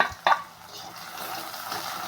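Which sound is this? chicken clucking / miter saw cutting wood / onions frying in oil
onions frying in oil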